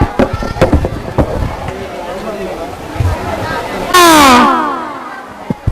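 Stage play with children performing: sharp bang-like pops ring out early among loud shouted dialogue, then a long bright burst of noise, all with a crowd.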